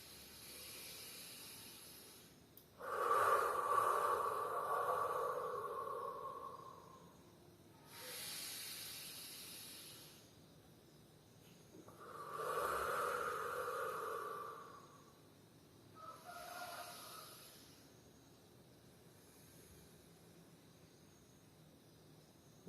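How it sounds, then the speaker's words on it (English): Slow, deliberately exaggerated deep breaths taken during meditation: about four long, airy hissing inhales and exhales, close and clear, separated by quiet pauses, with no talking. "These breaths can even be a little bit exaggerated"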